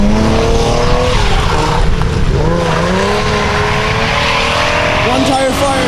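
Tires squeal in a sustained burnout at an outdoor car meet, the loud engine roaring steadily throughout with a shifting screech over it, while people talk in the background.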